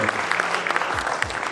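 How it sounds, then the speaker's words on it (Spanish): Congregation at a wedding ceremony applauding together, a steady dense clatter of many hands clapping throughout, fairly close and even in loudness. "podemos dar un fuerte aplauso para nuestros hermanos"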